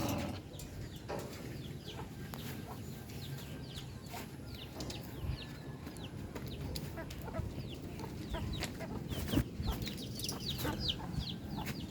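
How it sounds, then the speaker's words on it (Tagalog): Soft clucking from a rooster at some distance, low and intermittent over a faint outdoor background with birds chirping. "Yan, isang tandang pa yan."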